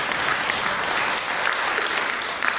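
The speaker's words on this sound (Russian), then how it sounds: "Под финал первого отделения хочется позвать на эту сцену Станислава Сазонова. Под ваши аплодисменты." A concert audience at an academic vocal jam session applauding to welcome a singer onstage, dense continuous clapping filling the hall, loud and steady.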